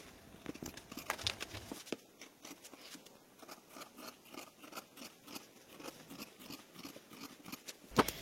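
Scissors snipping through fabric along pattern pieces for a fabric belt bag, a steady run of short, close crunching cuts.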